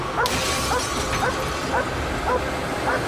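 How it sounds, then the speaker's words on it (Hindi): A search dog in hunt mode barks at a car, giving a string of sharp, evenly spaced yips roughly every half second, set against a noisy outdoor background. "सेज इस कार पर भौंक रही है।"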